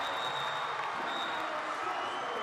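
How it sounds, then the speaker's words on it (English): Cheering crowd in a high school basketball gym during a district semifinal game: a continuous, broad roar of voices and applause that stays fairly even throughout, with no clear individual sounds standing out. "Listen to the crowd in this gym, Mitch."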